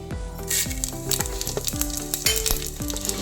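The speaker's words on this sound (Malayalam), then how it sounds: "മൺചട്ടിയിലേക്ക് 1 സ്പൂൺ എണ്ണ ഒഴിച്ചിട്ട് അതിൽ നിന്ന് മല്ലി മുളകും നമ്മൾ വറുത്ത് മാറ്റാം" Coriander seeds roast in hot oil in a clay pot, sizzling steadily with sharp crackles and pops over a constant hiss.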